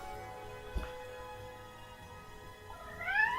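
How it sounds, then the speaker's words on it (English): A house cat gives a single rising meow near the end, faint and indoors outside a furnace room, after a soft thump amid quiet hum. "Cat wants into the furnace room, but I open the door, she leaves."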